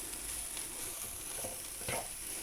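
Vegetables for chicken spring roll filling fry in a pan, a steady low sizzle with a couple of brief stirring scrapes near the end, close and fairly quiet, no voices.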